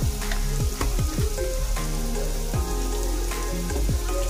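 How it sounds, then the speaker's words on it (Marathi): Chopped onion frying in hot oil in a pan over a gas flame, a loud, continuous sizzle with repeated scraping stirs cutting through it. "कांदा आपण तेलामध्ये चांगला फ्राय करून घेऊया"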